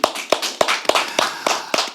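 Studio audience claps in crisp, evenly spaced bursts, about eight sharp loud claps in two seconds with no voices over them.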